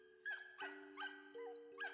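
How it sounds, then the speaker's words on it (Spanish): Dog barking in a forest: a series of five short, yelping barks at an even pace, faint and fairly distant, over a steady low hum. "Eran los ladridos del perro en el bosque."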